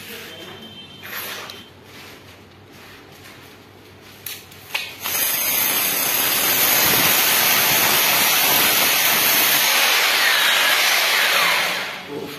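A power drill bores through a wall to install a Carrier split AC unit, giving a loud, sustained grinding roar that starts after a few seconds of quieter clicks and handling and runs steadily almost to the end.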